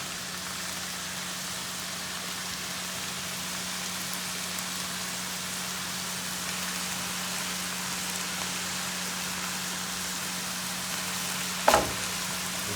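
Mushrooms frying in a pan for lasagna give a steady, even sizzle with a constant low hum underneath and one sharp clatter near the end; no voices.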